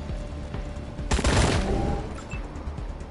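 Video game assault rifles and heavy machine guns in a wasteland battle, a dense burst of gunfire erupting mid-clip over a steady background din, with no talk.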